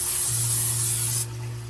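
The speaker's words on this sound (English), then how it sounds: "I am going to spray olive oil with my little bottle right here all over my cookie scooper." A single short hiss of olive oil from a spray bottle onto a cookie scooper, close and loud, lasting about a second before cutting off abruptly.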